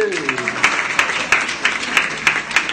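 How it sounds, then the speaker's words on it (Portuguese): An audience at a talk applauds, sparse and rhythmic, with evenly spaced claps standing out over a murmuring crowd and a voice at the start. "Palmas para você."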